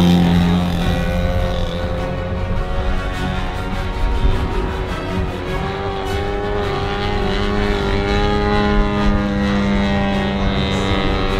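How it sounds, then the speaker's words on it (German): Propeller aircraft flying a display at an airshow, a steady loud engine drone with shifting harmonic tones held throughout, close and unbroken, with no voices. "Diese Maschine war sehr, sehr schwierig zu fliegen"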